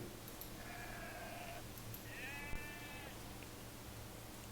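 Two drawn-out sheep bleats from the Age of Empires video game play over a steady hiss of game ambience, the second slightly louder and followed by a soft click.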